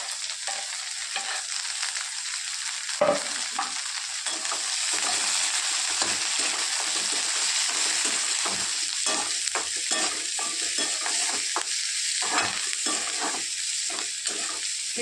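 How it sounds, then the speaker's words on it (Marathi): Onion and green chillies fry with browned garlic in hot oil for a Marathi-style leafy greens dish, a steady close sizzle with frequent stirring scrapes and clicks throughout, no voices. "लसूण लाल झालं आहे आता टाकत आहोत आपण कांदा आणि हिरवी मिरची"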